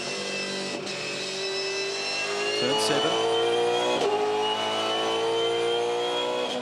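V8 Supercars race cars at Darwin accelerating hard, a loud engine note climbing steadily in pitch with brief gear-change dips, heard close from onboard, with a commentator speaking briefly.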